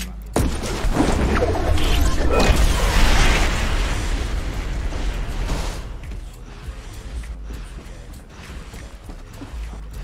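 A rocket blast in the Fortnite Battle Royale video game: a loud, close explosion bursts out with a heavy rumble, then decays into a long, fading roar over several seconds.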